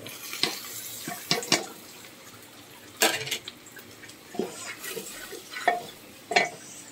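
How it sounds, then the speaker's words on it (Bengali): Browned onions frying in a pan as spices go in, with scattered stirring scrapes and clinks over a soft sizzle, in irregular bursts of varying loudness; no talking. "পেঁয়াজটা আমার বাদামি কালার হয়ে এসেছে, তাহলে আমি এখন মশলাগুলি দিয়ে দিব।"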